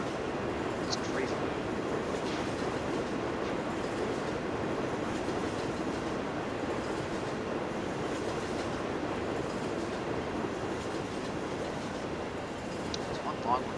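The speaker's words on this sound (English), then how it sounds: "I'm on a loud train." A long train rumbles steadily past in Farming Simulator 19 on a Minnesota map, a continuous close clattering roar of wheels on rails throughout, with someone talking over it.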